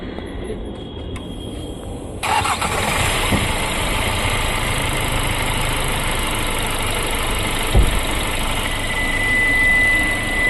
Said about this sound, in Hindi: ये है इसका इंजन का साउंड।